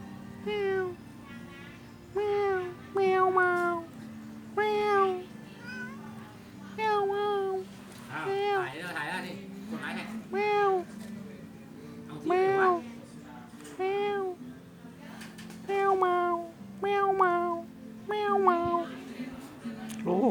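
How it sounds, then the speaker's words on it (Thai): Several cats meow repeatedly in short, rising calls while competing for food, close by, with a few pauses between bursts; a soft hum sits underneath. "แมวแมว แมว จะแย่งอาหารกันนะครับ"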